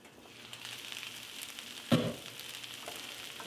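Poor man's skillet cooks in a covered pan with a soft, steady sizzle and faint crackle, and a single sharp clack of the lid or utensil partway through.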